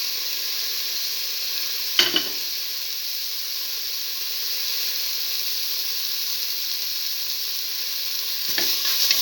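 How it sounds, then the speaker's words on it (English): Tomato pieces sizzle in a pan for a black lentil stew, a continuous bright hiss of frying close by with a couple of brief clinks or stirring knocks. "Now put in the tomato pieces"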